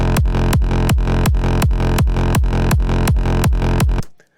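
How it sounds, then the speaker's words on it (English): A deep side-chained electronic bass for hard dance pulses in a steady, even rhythm, each note ducking and swelling back, repeating about a dozen times before cutting off abruptly. "Next up, we have the side-chained bass, which sounds like this."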